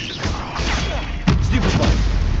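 Spell-casting effects from the Hogwarts Legacy video game burst out as booming, whooshing blasts in quick succession, loud and close, with a heavier impact partway through, mixed with a shouting voice.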